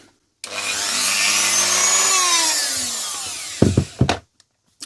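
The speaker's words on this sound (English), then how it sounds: "we're gonna Dremel out the whole of this and hopefully get it so it fits on there just right" Dremel rotary tool grinding out a small plastic model part held in a clamp, a steady high-pitched whine that slowly drops in pitch over a few seconds, followed by a couple of short bursts as the tool is touched to the piece again.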